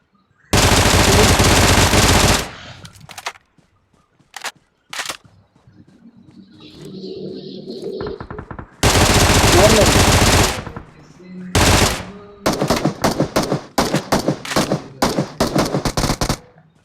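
Rapid bursts of gunfire from a video game, with several loud sustained automatic volleys and scattered single shots, separated by quieter stretches that carry faint game sounds.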